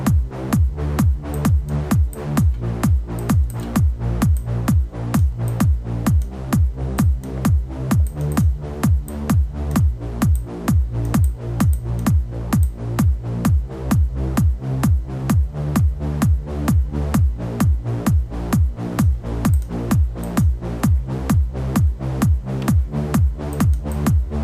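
Layered synth bass pounds out a steady, repeating pattern, loud and dense with deep low notes, with no voices.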